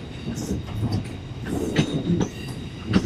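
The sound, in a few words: South Western Railway train departing Portsmouth Harbour for London Waterloo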